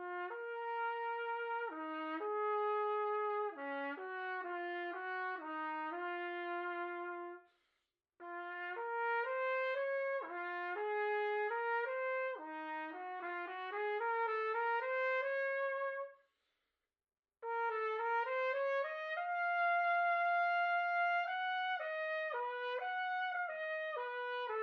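A solo trumpet slurs smoothly through an All-State etude in connected stepwise phrases, played clean and alone in three passages separated by two short silent breaths.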